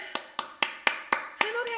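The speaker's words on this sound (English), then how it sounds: "I'm applauding myself" A single person claps their hands in a steady run of six or seven sharp, close claps, evenly spaced, with a faint voice heard near the end.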